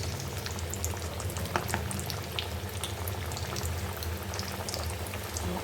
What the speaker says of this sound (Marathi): तर अशाच पद्धतीने सगळे तळून घेऊ